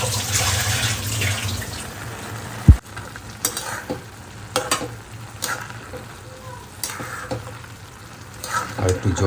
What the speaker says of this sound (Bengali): পুরো সবজি দিয়ে দিলাম, তারপরে একটু নেড়ে ঢেকে দেবো